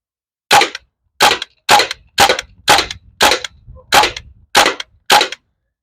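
Crosman M1 airgun firing single shots in selective fire, nine sharp, loud cracks spaced roughly half a second apart, each ending in a brief mechanical rattle.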